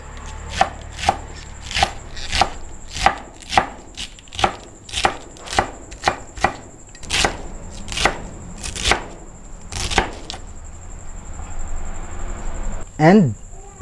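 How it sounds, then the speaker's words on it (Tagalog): A knife slicing cabbage on a board in quick, evenly spaced close chops, about a dozen crisp strokes, ending with a brief squeak. "Hiwain lang natin to na parang pangpansit."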